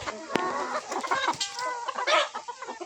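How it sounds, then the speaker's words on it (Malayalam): Roosters raised for market on a farm cluck and call in a busy, overlapping jumble, fairly close and moderately loud, with no talk. "പൂങ്കോഴികളെ മാത്രമായിട്ട് നമ്മൾ വളർത്തുന്നതാണ്"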